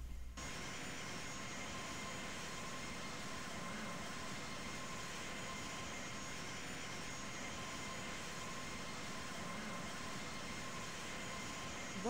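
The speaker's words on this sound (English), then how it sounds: "Nortrans 1503 is taking off runway 30, departing north." Steady airliner engine roar during a takeoff roll in the Infinite Flight simulator, a constant even drone that holds at the same level throughout, alone with no voices.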